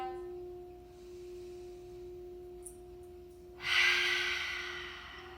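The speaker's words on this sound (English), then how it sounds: "Exhale audibly out the mouth." A single audible exhale through the mouth during a chest-opening yoga sequence, a breathy rush of air that swells up close and fades over a couple of seconds, heard over a steady soft background tone.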